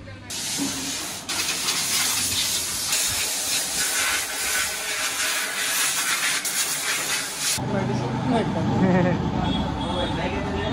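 Air is pumped into a freshly washed Suzuki Gixxer motorcycle's tyres, a loud, continuous hiss lasting about seven seconds before cutting off, leaving quieter background noise and a voice.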